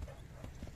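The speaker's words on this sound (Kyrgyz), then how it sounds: "Жылкыны караңыздар" A strong three-year-old horse from Nookat, raised for ulak games, makes a few quick, faint hoof clops on hard ground. They are brief and soft against a low background.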